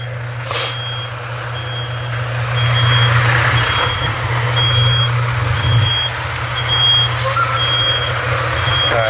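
A truck's reversing alarm beeps in a steady repeating pattern over a loud idling engine rumble on a roadside near a fire on Lucas Valley Road in Nicasio, heard from close by outdoors.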